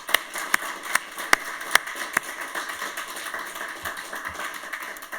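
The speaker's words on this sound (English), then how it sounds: "giving a big round of applause to all of our shortlisted initiatives" At a road safety awards ceremony, sharp individual claps ring out near and distinct at first, then thin into softer, scattered clapping from a small audience.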